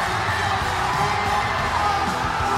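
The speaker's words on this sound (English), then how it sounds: "Hear the crowd roar" A dense, steady roar from a large arena crowd fills the space at a mobile esports tournament, loud and continuous with scattered whoops and yells blending into the wash.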